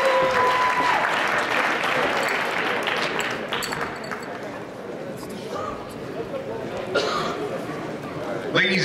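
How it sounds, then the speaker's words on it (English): A crowd at a boxing event applauds both boxers after a bout, with sustained clapping and cheering that gradually eases while voices carry through the hall. "Applause for both of our boxers."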